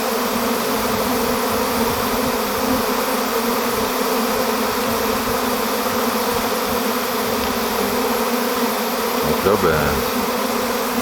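A large swarm of honey bees hums around a hive, a dense, loud, continuous buzz that fills the whole stretch, with a brief spoken word near the start.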